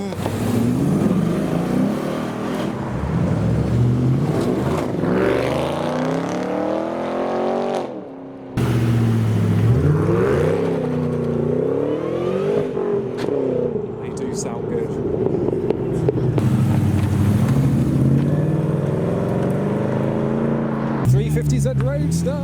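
Sports cars and supercars leaving a car show rev hard and accelerate away one after another. The loud engines rise and fall in pitch, with a short drop-out midway, and voices talk over the noise throughout.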